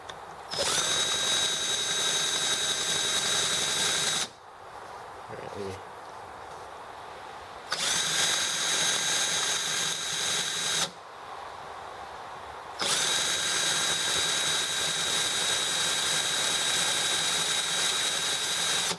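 An EM1 model engine is cranked with a loud, buzzing electric starter in three long bursts separated by short pauses, the engine never catching, with brief faint voices in the gaps.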